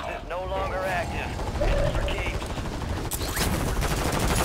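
Gunshots in the video game Warzone 3: rapid mechanical clatter and bursts of automatic fire under a dense game soundscape, ending with a couple of sharp, loud cracks.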